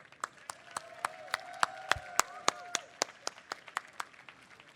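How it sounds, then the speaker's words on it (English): Steady, evenly spaced handclaps from a small audience at an outdoor Entheofest 2023 talk on the U of M Diag, welcoming John Sinclair; about sixteen crisp claps with faint tonal ringing behind them. "Another big round of applause for John Sinclair."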